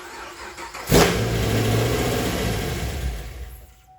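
A cammed, supercharged fifth-generation Chevrolet Camaro engine cranks and fires with a loud burst at about one second, then settles into a rough, loping idle that carries on close by until it cuts out near the end.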